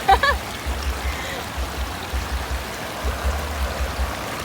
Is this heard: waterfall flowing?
yes